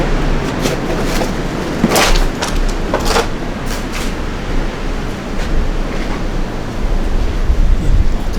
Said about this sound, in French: Sacré vent.